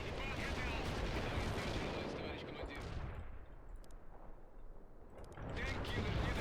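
Heavy artillery fire in the World in Conflict video game makes a dense, continuous rumble of distant blasts and crackle. It fades briefly in the middle, then swells loud again, with no clear talking.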